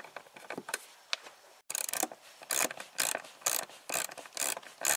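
The electric seat mechanism of a Porsche 944 drives the seat forward with close, rhythmic mechanical clicking and grinding. The rattling bursts come in quick succession after a brief pause.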